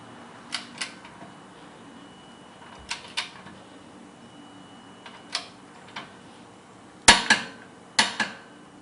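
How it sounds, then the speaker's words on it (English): A torque wrench tightens coilover bolts on a 2011 Scion tC to 66 foot-pounds, giving scattered sharp close clicks, single or in quick pairs, with a sharper cluster near the end, against a quiet background. "I torqued down those two bolts"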